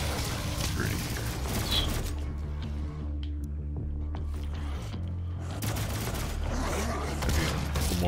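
Pistol shots in Doom SnapMap, loud bursts of rapid gunfire at the start and again near the end, separated by a quieter stretch with lingering mechanical tones and droning game sound.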